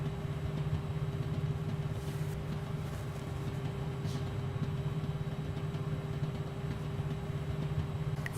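An electric motor runs steadily with a low, constant hum and a fixed tonal whine, unchanging and moderately quiet, with a few faint clicks and ticks over it.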